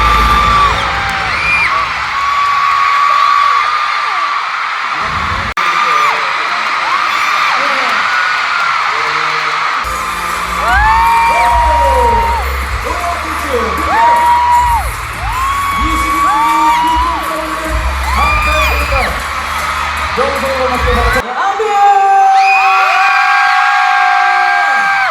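A large audience at the Fact Music Awards screams and cheers in loud, sustained waves of high-pitched shrieks and whoops, close and continuous, with brief lulls between surges.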